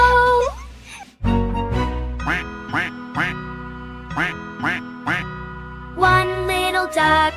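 Cartoon mother duck quacking in a children's song, a series of loud, close, rhythmic quacks set to music, with livelier overlapping quacks toward the end.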